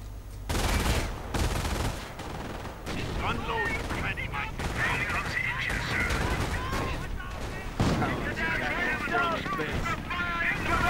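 Machine gun bursts and mortar impacts in a real-time strategy war game, a continuous dense barrage of gunfire and explosions with crackling, overlapping shots under a commentator's voice.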